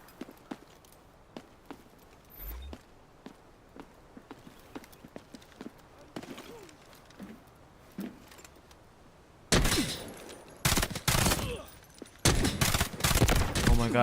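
Short bursts of automatic gunfire from a Delta Force video game firefight erupt loud after quieter footsteps and clicks, with rapid dense volleys in two clusters near the end.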